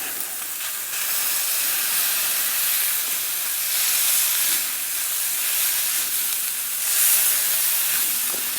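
Smash burger patty sizzling in oil during rainy riverbank truck camping, a continuous loud frying hiss with gentle swells that runs unbroken throughout.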